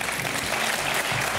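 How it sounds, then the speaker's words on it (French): A television studio audience breaks into spontaneous applause for Marcel Amont, a brief burst of many hands clapping together at moderate loudness. "Le public spontanément applaudit Marcel Amont"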